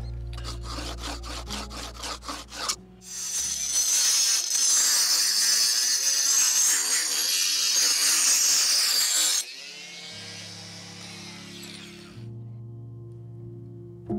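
A 4.5-inch inexpensive diamond blade on an angle grinder spins up, then cuts with a loud, harsh, steady high-pitched grinding for several seconds before winding down and idling, close by with no talk.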